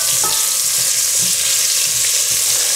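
Tomatoes and paprika are stirred into chorizo frying in a pan, giving a steady close sizzle with soft scraping stirs throughout and no talking.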